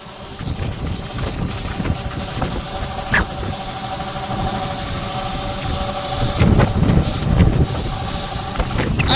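A combine harvester engine runs steadily at close range while unloading grain in an open paddy field, with a continuous throbbing drone, mechanical rattle and wind buffeting the microphone, growing slightly louder near the end.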